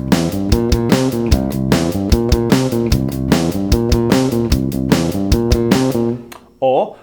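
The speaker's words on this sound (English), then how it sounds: "So the first variation would have 2 bass drum beats on 3" Steady rock drum beat with the bass drum doubled on beat three, kick and snare hits in an even loop under sustained bass guitar notes, ending with a brief spoken interjection.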